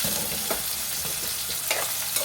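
Onions and green chilies frying in a pan for a potato-tomato curry, a dense steady sizzle held close throughout with faint soft clicks.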